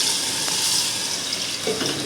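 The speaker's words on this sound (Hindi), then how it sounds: "भिंडी मैंने भून ली है, घी छोड़ दिया, अब इसमें पानी शामिल करेंगे।" Water poured steadily into a pan of okra fried in ghee, a continuous rushing splash that stays fairly loud and even throughout, with no voices.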